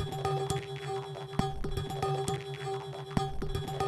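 A music loop stretched slightly to fit one bar of 4/4 at 135 BPM using Ableton Live's Complex Pro warp mode, with sustained tonal notes over a steady pulse of crisp rhythmic hits, played alone.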